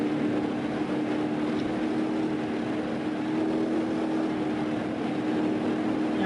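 Roamer SUV engine held at full throttle in BeamNG.drive, a steady, loud, strained drone that stays constant at near top speed with no talking over it.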